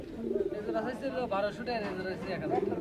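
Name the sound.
pigeons cooing at a pigeon market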